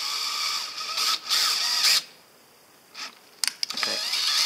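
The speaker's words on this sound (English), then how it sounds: "I'm going to drill a little pilot hole" A small power drill bores a pilot hole into wood while boxing in a camper van wheel arch, whirring in short bursts with a pause between, followed by a few sharp clicks.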